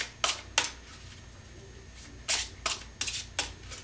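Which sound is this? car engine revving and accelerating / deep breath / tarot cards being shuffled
tarot cards being shuffled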